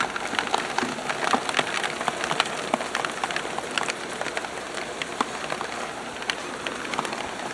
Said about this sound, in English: I'm inside, by the way, and I'm getting pelted. We're getting pelted with rain.